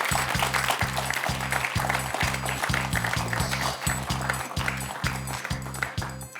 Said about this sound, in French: On va vous applaudir, Damien, pour ce parcours.